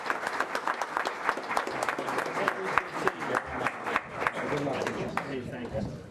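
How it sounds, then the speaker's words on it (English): An audience at a county commissioners' public meeting applauds the Teacher of the Year, with dense, continuous clapping filling the room throughout. "Another round of applause for our Teacher of the Year."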